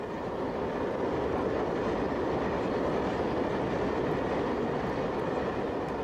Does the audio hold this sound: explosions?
no